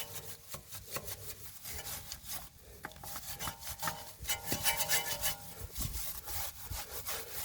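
A deep-bristled wheel brush scrubs the wheel of a Golf R behind the brake caliper, giving a continuous, close bristly rubbing and scraping with uneven strokes and no talking.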